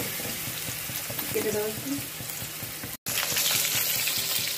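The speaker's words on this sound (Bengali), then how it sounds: "রসুনটা একটু ভাজা হবে" Garlic fries in hot oil in a pan, hissing and sizzling steadily for a pumpkin-flower paste dish, with a brief break and a short spoken phrase over the sizzle.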